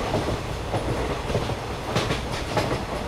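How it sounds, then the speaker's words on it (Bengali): A train runs fast along the rails, close and loud, with a continuous rumbling roar and a steady clickety-clack of wheels over the track joints. "এদিকে ট্রেনটাও পাগলের মতো ছুটে চলেছে"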